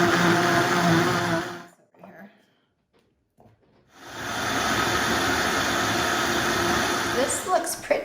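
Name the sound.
blender liquefying chopped jalapeno peppers with vinegar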